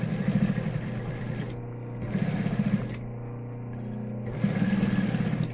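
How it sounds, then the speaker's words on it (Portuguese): Sewing machine stitching a seam on a thermal lunch bag, running in three short bursts separated by brief pauses, close and steady with a rhythmic needle chatter. "Vou passar uma costura aqui."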